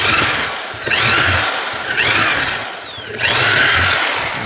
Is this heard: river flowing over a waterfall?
no